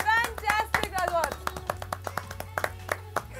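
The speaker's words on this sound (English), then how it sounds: "Can we have some more claps?" Audience clapping at an online game night, a scattered run of separate claps and taps that follows a voice speaking at the start.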